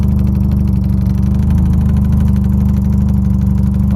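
A recently overhauled Mitsubishi Lancer engine idles loud and close, a steady, even low-pitched rumble with a fast regular pulse and no change in speed.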